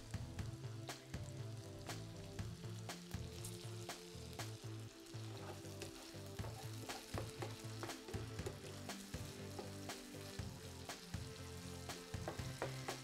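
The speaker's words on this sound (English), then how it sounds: "So we're going to add the carrots with the onions and saute them both together." Carrots and onions sauté together in a pan with a little salt, sizzling steadily up close with frequent sharp clicks and stirring scrapes the whole way through.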